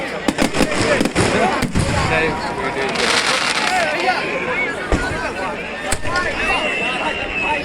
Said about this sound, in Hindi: यह भव्य आतिशबाजी हो रही है